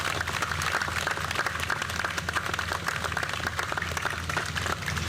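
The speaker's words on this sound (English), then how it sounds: "can we have a round of applause?" A crowd at a 9/11 memorial ceremony on Staten Island applauds continuously, a dense, even wash of clapping with a low hum beneath it and no voices.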